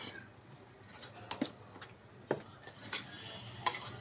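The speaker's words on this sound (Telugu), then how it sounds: "ఇట్లా తిప్పేసుకోవాలి, కలుపుకొని ఉప్పు చూసుకుంటే ఎలా ఉందనేది తెలిసిద్ది." Curry being stirred and mixed in a pan with a spoon: quiet scraping and light clinks of utensil against metal, a few sharper taps scattered over a soft background, no talk.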